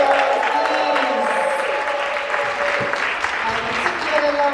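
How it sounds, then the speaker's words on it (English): Big round of crowd applause at a Jamaican Heritage Month event, dense and loud clapping throughout, with a voice speaking over it and some cheering mixed in. "Let's give them another big round of applause"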